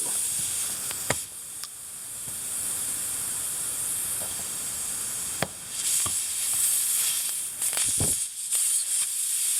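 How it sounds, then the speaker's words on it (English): Air hisses steadily out of a punctured tire after a screw is pulled from the tread, a loud close continuous hiss with a few brief clicks and knocks from handling. "there's the air coming out"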